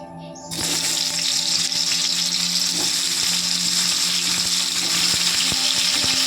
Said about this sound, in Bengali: দিয়ে ভালো করে আলুগুলো লাল লাল করে ভেজে নেব